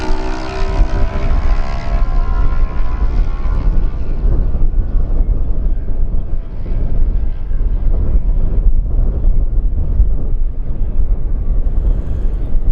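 Kawasaki and Suzuki lightweight racing motorcycles passing on a road course, a loud close engine whine that fades into steady distant engine drone and wind rumble, with no voices.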